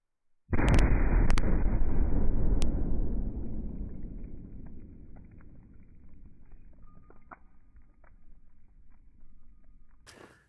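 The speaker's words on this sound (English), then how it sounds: "This is half a pound of binary explosives with 3 drives on top." A single loud blast from half a pound of binary explosives with three hard drives on top, sharp onset, followed by a long rumbling decay that fades over several seconds.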